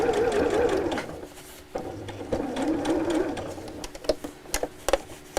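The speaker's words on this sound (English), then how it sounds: "So I'm just sewing about 1/4 inch from the seam all the way around." A sewing machine runs steadily while top stitching fabric about a quarter inch from a seam, a close, continuous mechanical whir with a few small clicks toward the end, and no talking.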